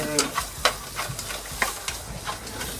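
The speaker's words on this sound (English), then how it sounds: "while I'm cooking the fat, I add little garlic so that it smells a little bit better" Fat sizzles in a pan with garlic added, cooking over medium heat, as a spoon stirs and taps against the pan in irregular scrapes over a steady crackle.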